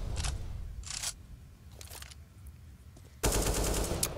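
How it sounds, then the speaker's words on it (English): Gunfire in a competitive Counter-Strike: Global Offensive match at DreamHack Masters Las Vegas 2017, sharp scattered shots and short bursts, ending in a louder sustained spray of rapid fire. "Good shot from Skadoodle"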